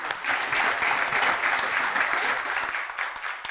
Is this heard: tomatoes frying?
no